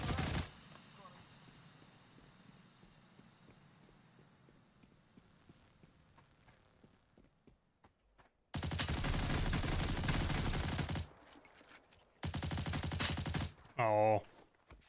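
A video-game machine gun loaded with a 100-round drum fires two long, loud, rapid bursts after a quieter stretch of movement sounds, then a short harsh blast closes the sequence.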